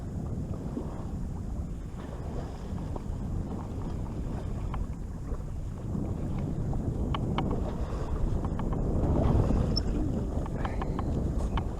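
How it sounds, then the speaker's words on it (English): Wind gusting across a sailboat at sea, a sustained rumbling buffet on the microphone that swells louder toward the end, with faint creaks and ticks from the boat. "We had a little gust of wind."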